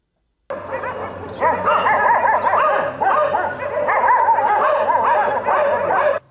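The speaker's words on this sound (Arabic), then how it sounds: "انتشرت مؤخرا الكلاب الضالة في تعز بشكل كبير" Stray dogs in the city of Taiz bark and yip in a loud, continuous chorus, several animals overlapping close by with whimpering yelps mixed in.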